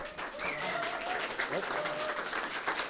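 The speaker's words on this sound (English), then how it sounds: "and a final applause for Lyell." Applause from an audience at a TouchDesigner roundtable gathering, a steady wash of clapping for about three seconds with voices and tonal sounds mixed in above it.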